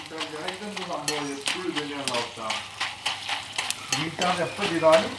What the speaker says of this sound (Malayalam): ചുണ്ടയ്ക്ക ഉണങ്ങി കഴിഞ്ഞപ്പോൾ ഈ കളറായിട്ടുണ്ട് നമുക്കിതൊന്ന് വറുത്തെടുക്കാം